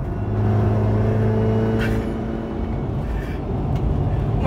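A BMW F30 with an automatic gearbox, pushed hard on a racing run, its engine a steady close rumble with a sustained droning tone that holds and shifts slightly, heard alone without talk.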